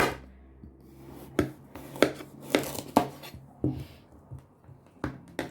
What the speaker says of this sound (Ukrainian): Моркву теж буду різати соломкою